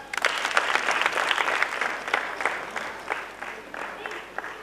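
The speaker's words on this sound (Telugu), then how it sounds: "Nice claps." A school audience claps steadily through a science competition event in Nizamabad, the applause dense and continuous with a faint crowd murmur beneath.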